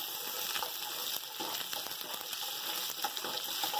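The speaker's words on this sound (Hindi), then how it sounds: "तमाम मसाले मैंने डाल दिए, इनको थोड़ा सा फ्राई करेंगे।" Whole spices fry in hot oil with garlic and ginger for white chicken biryani, giving a constant soft sizzle with scattered light crackles and pops, fairly quiet and unbroken.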